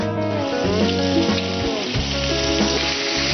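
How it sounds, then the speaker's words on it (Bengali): Rice frying in a pan with cardamom, cinnamon, cloves and mace gives a steady, close sizzle that runs the whole time, with faint stirring scrapes and tonal background sounds over it. "চালটা একটু ভাজা ভাজা হবে, চালটা একটু লালচে লালচে হবে।"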